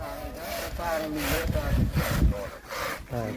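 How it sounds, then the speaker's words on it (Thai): A hand saw rasps back and forth through a soft banana trunk in steady, rhythmic strokes, with a voice speaking faintly underneath. "เลื่อยต้นกล้วยครับต้นกล้วยเห็ดกระทง เอาเลื่อยเลื่อยครับ"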